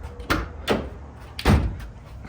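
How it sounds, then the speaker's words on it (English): Three sharp smacks against a door ring out at spaced intervals, each a loud broadband thud with a quick decay, the last one the heaviest, set against a quiet room background. "Just smacked the hell out of my door"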